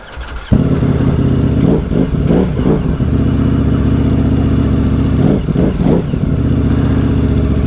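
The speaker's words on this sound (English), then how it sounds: "or you might hear in the video that this motorcycle has, is a dry clutch" A 2021 Ducati Streetfighter V4 engine, not stock, idles loudly close by with a dry, metallic dry-clutch rattle, revving briefly twice in between steady running.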